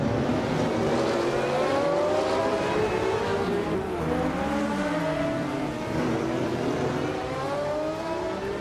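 Group C endurance race cars, including a Lola T610, roar past on a circuit in a steady, loud wall of engine noise, with overlapping engine notes rising and falling as the cars accelerate and shift.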